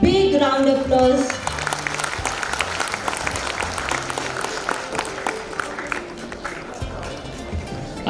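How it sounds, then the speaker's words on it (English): An audience claps for students after a school performance at a Grade X family jamboree, sustained dense applause from a crowd, loud at first and then steady, with some voices and a tonal sound briefly at the start. "these students deserve a big round of applause"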